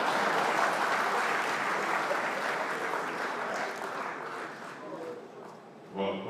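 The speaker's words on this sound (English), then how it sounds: "I don't know how we can generate a multilingual round of applause now." Conference hall applause at a banking and finance gathering, a full, steady roar of many hands clapping that gradually tapers off, followed by a speaker's voice at the close.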